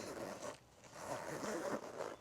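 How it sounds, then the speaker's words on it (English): A YKK zipper is pulled along a stationery pouch in two quick, smooth, close rasping runs with a brief pause between them. "YKK zippers are just so smooth. Look how smooth that was."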